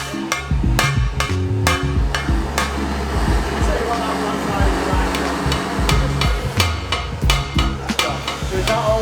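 Repeated sharp metallic hammer taps on a vehicle wheel being straightened during repair ring out close by in irregular bursts, with a steady low hum underneath and faint voices at times.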